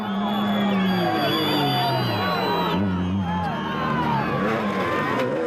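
A crowd cheers and whoops at the Toyota 1000 off-road rally as a Nissan Navara with a local crew passes. The noisy, sustained roar of voices carries over a low engine rumble.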